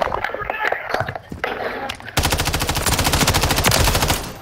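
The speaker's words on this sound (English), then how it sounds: "Taking fire over here." Call of Duty MWIII gunfire, with scattered shots and game noise under a voice at first, then a loud, sustained burst of rapid automatic fire hammering in a fast, even rhythm.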